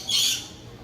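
A pet bird at an aquarium gives a single short, shrill squawk close by, then quiet background.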